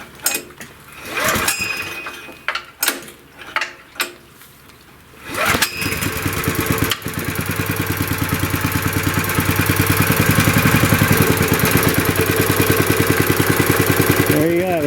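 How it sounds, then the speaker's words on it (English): A 1996 Honda EG2200X generator starts up after a few short handling knocks, catching quickly and settling into a loud, steady idle with an even, droning engine pulse close by. "This has always been the easiest starting engine I've ever owned"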